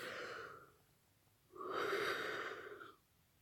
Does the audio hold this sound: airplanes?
no